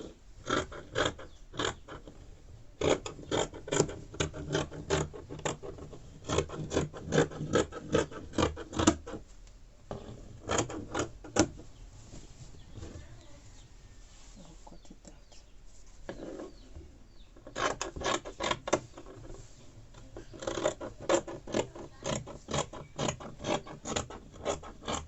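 Fabric being cut out with scissors for a skirt and blouse, heard as bursts of rapid, close snipping and rasping strokes separated by short quiet pauses, with no talking.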